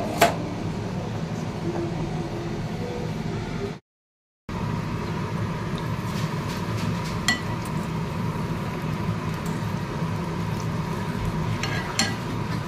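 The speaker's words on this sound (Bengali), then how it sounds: "হালকা আঁচে করে ভাজছি।" Pumpkin fritters sizzle steadily in hot oil over low heat, a continuous hiss broken by occasional faint clinks of a utensil.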